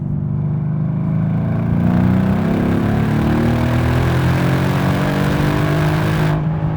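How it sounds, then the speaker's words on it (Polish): A Mercedes-Benz E 63 S AMG accelerates hard with a loud, deep exhaust roar that climbs steadily in pitch through the gear, sustained and close, with no talking. "Jaki ten wydech jest genialny."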